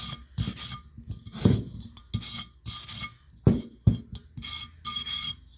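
Abrasive rubbing on a glass vase coated in a faux aged stone finish, smoothing the surface in short, separate scraping strokes with brief pauses between, close and moderately loud, no voices.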